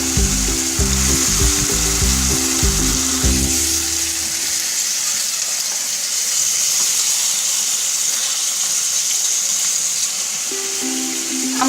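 Beef frying with spiced masala for beef vona curry, giving a loud, steady sizzle and hiss throughout, with stirring and pan knocks near the start and again near the end.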